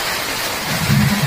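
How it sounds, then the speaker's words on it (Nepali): Heavy rain with large hailstones pours down in a dense, loud roar, a steady wash of noise that swells slightly near the end of the brief stretch. "असिना सहितको अविरल वर्षा भइरहेको छ"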